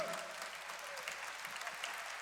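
A church audience applauds steadily throughout, a dense continuous patter of many hands clapping at moderate volume with no talk over it.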